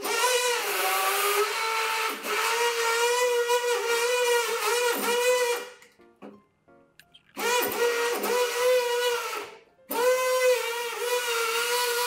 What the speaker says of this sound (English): Of course, I'm using a hand blender.